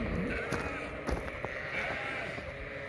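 Hungry farm sheep bleat repeatedly and loudly at close range, several overlapping calls over steady background noise.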